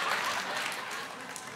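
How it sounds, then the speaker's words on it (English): Audience clapping at a church talk, a brief, dense wash of applause from many hands, fairly even and moderately loud throughout. "I know a patronizing clap when I hear one."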